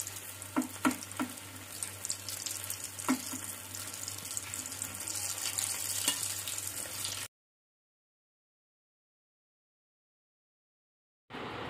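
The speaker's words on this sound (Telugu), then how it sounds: "గోల్డెన్ బ్రౌన్ కలర్ వచ్చేంత వరకు వేయించుకోవాలి" Paneer potato bread rolls deep frying in hot oil until golden brown, a steady crackling sizzle with occasional pops for about seven seconds, then sudden silence before the frying noise briefly returns.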